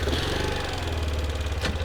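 A small Daytona DYMOTO 125 motorcycle, also sold as the Winner 125 or Dayang DY125, pulling off in first gear in the city, its single engine droning steadily and close with a low, pulsing rumble.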